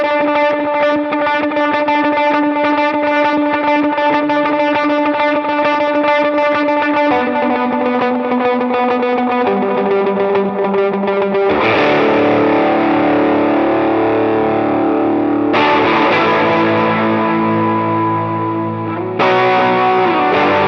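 Lead guitar part played with all its effects on, distorted and chorused with echo, sustained melodic lines that shift pitch in sections, loud and continuous with no voices.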